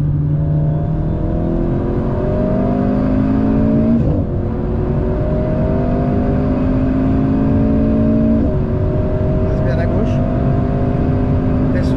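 A car is driven on a track at a driving school, its engine pulling steadily through rising gear changes with brief shift breaks, loud and close as from inside the cabin, while an instructor talks over it.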